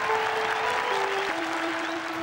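Golf crowd applauding and cheering at a tournament, a steady dense wash of clapping and voices held at even loudness throughout, with a sustained tone running underneath.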